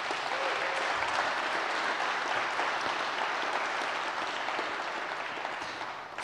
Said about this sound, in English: a huge round of applause for all the AWS teams